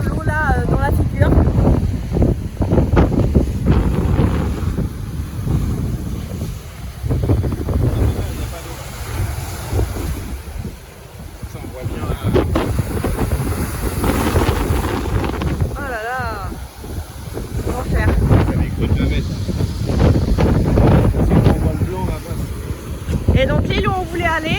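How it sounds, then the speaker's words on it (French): Strong wind gusts roar and buffet the microphone on a seashore on Sibuyan island in the Philippines, a continuous loud rushing that swells and dips across the whole stretch. "vais vous montrer quand même la mer en essayant de pas trop m'approcher parce qu'il y a des grosses bourrasques"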